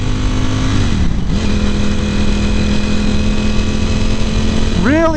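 A 2018 Ducati Panigale V4 engine holds a steady, loud, buzzing drone, briefly dips, then settles again and swells in a sharp rising rev at the end.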